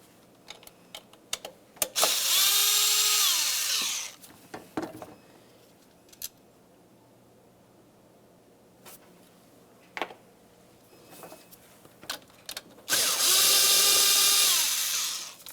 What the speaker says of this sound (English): we'll move over to the other side and remove the other 3 bolts on that side